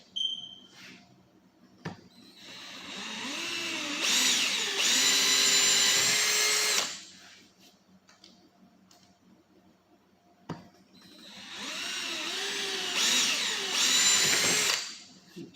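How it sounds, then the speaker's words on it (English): A small power drill boring quarter-inch holes whines steadily through two long bursts, each several seconds, its pitch shifting as it bites, separated by a quiet pause with faint clicks. "we're going to drill those out to 1/4 inch"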